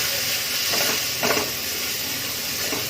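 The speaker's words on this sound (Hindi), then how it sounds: "मसालों को भी हमने 1 मिनट भून लिया है" Whole spices, dry coriander powder and turmeric roasting in a pan over very low gas, a steady soft sizzle with a few stirring scrapes, close and alone without talk.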